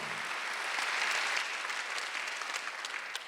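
A church congregation applauds during a Sunday worship service, a dense, even burst of many hands clapping that holds steady and tapers slightly at the end.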